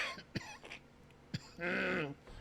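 A couple of sharp coughs, close by, separated by short pauses, followed by a sustained strained, throaty vocal sound.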